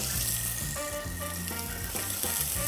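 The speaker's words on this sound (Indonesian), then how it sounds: "Nah, bawang bombay kita tumis." Onion sautéing in oil in a home kitchen pan for a tomato beef stew, a steady close sizzle and crackle running throughout with clanking utensils and faint background music.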